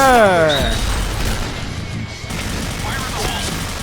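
HK416 rifle fire in the shooter game Point Blank crackles in rapid bursts amid crashing effects and a falling whistle, while someone talks excitedly over the continuous barrage.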